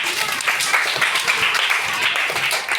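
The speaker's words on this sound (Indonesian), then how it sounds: "Tepuk tangan buat Krishna." A class of third-grade children claps together for a classmate named Krishna, producing a bright, continuous patter of small hands with a faint murmur of voices underneath.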